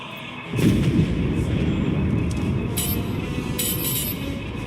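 Heavy cannon fire from a starship aimed at a capital ship in Star Wars: The Old Republic, a loud sustained rumbling barrage that swells in after a brief quiet start and keeps booming steadily to the end.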